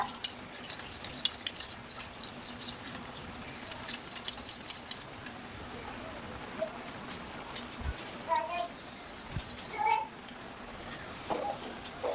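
Rice flour mixture for paagu kozhukkattai is stirred in a pan, making soft scraping and sloshing strokes over a faint low sizzle, with a few light utensil clinks.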